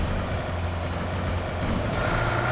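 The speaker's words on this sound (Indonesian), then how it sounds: "Itu ada mobil lagi." A car engine in the mobile game PUBG Mobile drones with a steady, fairly loud low hum and faint pulsing overtones, with no talking over it.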